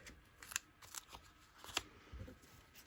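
Scissors snipping through decorative paper while trimming a gift tag and bag, a few short close crisp cuts spaced irregularly with quiet rustling between them.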